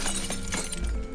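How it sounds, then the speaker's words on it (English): Glass shatters in Garry's Mod, a brief crashing burst of breaking shards, loud and close, with bright tinkling fragments over about a second. "I smashed them into the glass"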